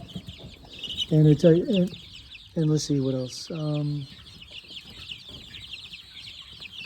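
Chickens and roosters cluck in a baby chick barn in close, loud bursts of repeated calls, with gaps and a person talking in between.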